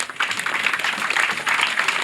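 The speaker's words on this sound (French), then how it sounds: "Je vous demande de les applaudir très fort." An audience at a community health event applauds, a dense, loud wash of many hands clapping together and continuing steadily with no voices over it.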